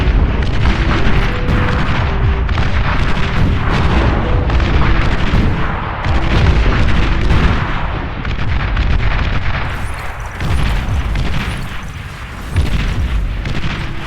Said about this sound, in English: T1 artillery.